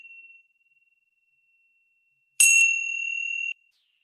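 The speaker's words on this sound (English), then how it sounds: "Then I'm gonna ring a bell." A single bell is struck during a meditation session, a clear bright ding that rings on steadily for about a second before cutting off, alone in a quiet room after a faint lingering tone.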